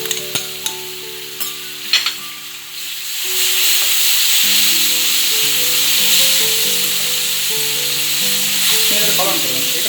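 Potatoes fry in hot oil with spices for Sri Lankan tempered potatoes, with a steady, loud sizzle that swells after a few seconds, broken by a few clinks and scrapes early on and tonal hums running underneath.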